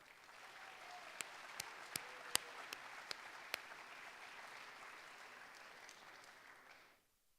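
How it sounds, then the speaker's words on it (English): Steady applause from an audience at an awards convocation, with a few sharp louder claps standing out, fading to silence at the very end. "Let's give them a round of applause."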